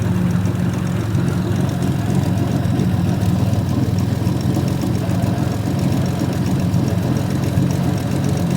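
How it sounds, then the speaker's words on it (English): A rusty old Jaguar that has sat unused for eight years idles while warming up, its engine giving a steady, loud, low rumble with a fine, even ticking pulse that holds without revving. "don't rev it yet. Let it warm up a bit."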